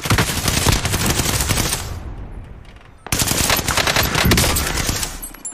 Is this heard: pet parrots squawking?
no